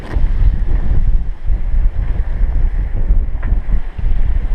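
Sailboat running downwind off Cuba with the jib sheet set out, giving a steady broadband rush of wind and water with low buffeting, close and continuous throughout, no voices.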